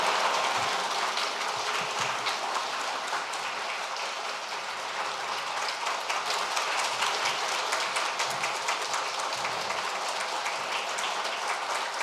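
A church congregation applauds through a Wednesday worship service in Seoul, with dense, continuous clapping from a large crowd that stays steady throughout.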